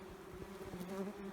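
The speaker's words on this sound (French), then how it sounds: "quand vous voyez le nombre de guêpes qui tournent autour" German wasps buzzing around an underground nest, a close, dense drone of several overlapping wings with pulsing, wavering pitch, faint and continuous with no voices.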